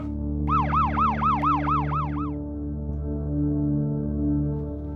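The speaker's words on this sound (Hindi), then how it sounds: "एम्बुलेंस बुलाओ फौरन।" An ambulance siren wails in fast repeated rising-and-falling cycles for about two seconds, then stops, leaving a steady low engine hum.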